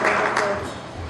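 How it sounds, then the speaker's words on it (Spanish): Audience applause at a legal discussion evening (tertulia jurídica), a brief burst of dense, steady clapping that fills the room and fades slightly toward the end. "un aplauso por favor"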